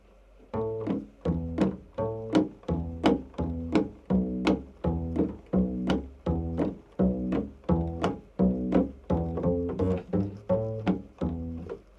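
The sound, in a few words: double bass playing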